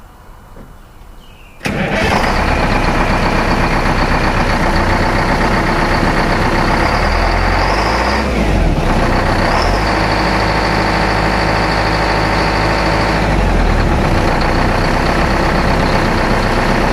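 A truck's engine starts abruptly with a loud roar, then settles into steady idling as the brakes air up, with a few hisses and shifts over the constant drone, no talk.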